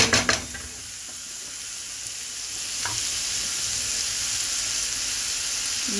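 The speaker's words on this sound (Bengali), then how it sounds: "শারমিন পাস্তা বানাইতে আসছে চিংড়ি মাছ দিয়ে।" Shrimp frying in oil in a pan for pasta: a few clanks and a stir at the start, then a steady close sizzle that grows slightly louder and carries on alone.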